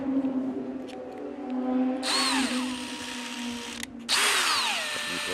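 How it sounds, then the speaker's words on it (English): A cordless drill spinning a wire mixer blade whirs up to speed close by, stops briefly, then spins again with a steady high-pitched whine. "I'm going to shape into a little mixer type blade."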